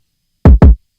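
Two quick, boomy kick drum hits in a row, each swelling in and cutting off abruptly like a reversed drum, loud and close, then silence.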